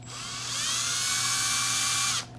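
A power drill spins its bit forward in a workshop, a steady high whine that rises briefly as it spins up, holds for about two seconds, then cuts off abruptly.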